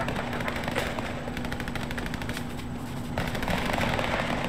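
Rapid gunfire from the video game Fortnite crackles continuously, bursts of shots at moderate distance running throughout with no speech over them.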